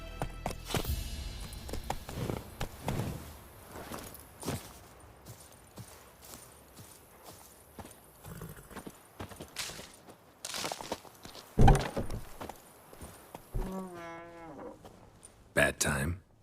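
A horse's hooves clip-clop at a trot in The Witcher 3: Wild Hunt, with an animal call near the end, amid other game sounds.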